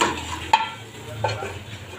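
Okra frying in a pan is stirred with a utensil: a sharp scrape or clink, then a softer second stir over a faint, steady sizzle, close up and without speech.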